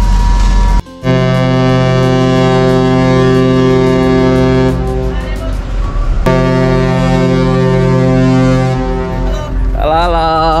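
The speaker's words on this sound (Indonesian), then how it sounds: "suara kapalnya kayak apa suara SpongeBob gitu" A ship's horn blares at a harbor in the morning, a deep, loud sustained blast that breaks off briefly and then resumes, with faint voices near the end.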